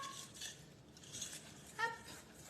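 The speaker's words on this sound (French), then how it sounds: "on vient du coup ici mélanger notre danette hop, à notre pâte" A utensil stirs Danette dessert cream into cake batter in a bowl, making faint, soft clinks and scrapes. A slightly louder knock comes near the end.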